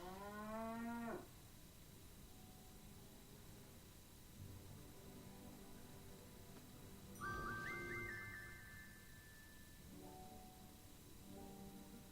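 Cartoonish cattle moos from the Sam & Max adventure game: a strong bellowing moo at the start, then later shorter, synthetic-sounding moo calls at intervals over a quiet background hum.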